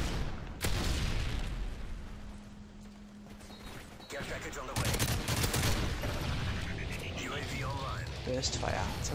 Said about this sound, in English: Burst fire, that's how we do it.